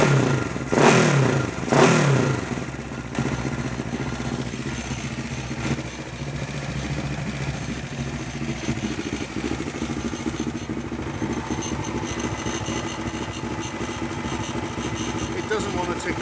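A Honda CB500T race motorcycle engine starts with a couple of loud revs, then settles into a steady, slightly uneven idle that runs to the end. Speech is faint or absent.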